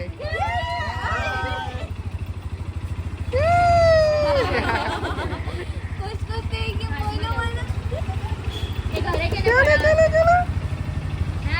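A motorbike engine runs steadily throughout, with excited voices calling out over the continuous engine hum during a Raksha Bandhan outing in Surat.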